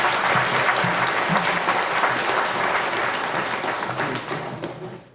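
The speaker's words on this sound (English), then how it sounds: "Judges, nice round of applause for Daniel." An audience at a 1992 Grade 4 school spelling bee gives a contestant a loud, sustained round of applause, dense clapping that slowly thins and fades toward the end.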